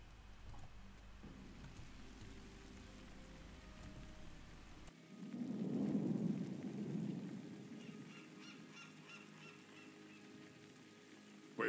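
A storm with steady rain and a deep rumble of thunder swelling in the middle, set in the Warcraft 3 Reforged video game, the rain hissing throughout while the thunder peaks around the center and fades, with no talking.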